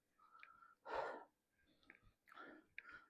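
Heavy, labored breathing of a person climbing stone hill steps on a temple pilgrimage trail, with several loud, close breaths and gasps coming in uneven bursts amid quieter pauses.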